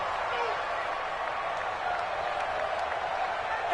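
A stadium crowd in an American football video game roars steadily, a dense, even wash of cheering and clapping that holds throughout the short stretch, with voices mixed into the noise.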